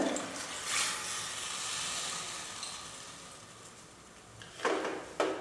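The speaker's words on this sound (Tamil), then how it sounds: "வேணுங்கிற அளவுக்கு தண்ணி ஊற்றிக்கங்க" Steady hissing and sizzling from a hot pan as water is poured into masala for chicken salna, with a soft watery rush and a couple of louder splashy bursts near the end.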